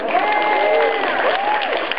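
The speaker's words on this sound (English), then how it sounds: "A big round of applause for Aaron." An audience at a Neil Gaiman event in Manila applauds, a dense, steady wash of many hands clapping with some cheering, close and continuous.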